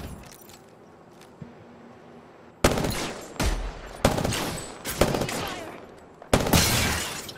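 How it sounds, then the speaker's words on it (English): Apex Legends gunfire, several loud close bursts and shots in uneven succession after a quieter stretch of low background game noise. "Getting shot at."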